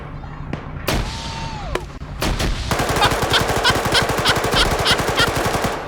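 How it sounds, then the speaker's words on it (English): Grenade and satchel explosions in a multiplayer video game match, mixed with a dense, rapid stream of loud gunfire; a few sharp blasts early on give way to continuous, close, rattling shots. "Now they're throwing grenades in."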